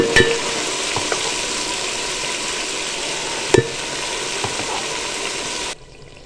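Mustard greens for sarson ka saag fry in a pan with a constant crackling sizzle and a few sharp clacks of stirring, before the sound cuts off abruptly.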